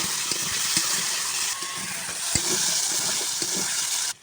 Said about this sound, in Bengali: আবারও কড়া বসিয়ে দিয়েছি তেল দিয়ে দিচ্ছি আলুগুলো ভেজে নেব